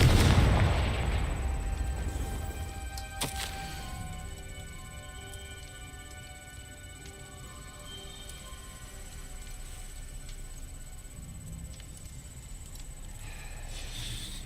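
Confringo blasting spell in the video game Hogwarts Legacy, a loud booming explosion at the start that fades into a long rumbling decay under quiet game ambience, with no talking.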